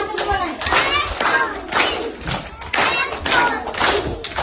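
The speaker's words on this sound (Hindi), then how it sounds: "सब लोग स्वागत में ताली बजाओ" Scattered hand clapping from a small gathering welcoming a newly elected official at a school event, in uneven bursts with thumps and taps, children's voices faintly mixed in.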